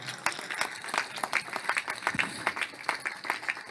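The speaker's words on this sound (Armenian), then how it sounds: "Եկեք ծափահարենք մեր վարորդներին" An audience gives sustained applause for the drivers at a political speech, dense clapping from many hands that rises and falls over a few seconds at moderate loudness, with no clear talk over it.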